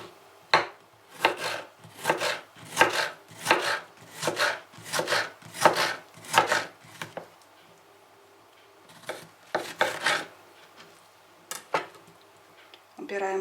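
A knife cuts a lemon into quarters on a board, about a dozen crisp, evenly spaced chops close up, then a pause and a few scattered cuts.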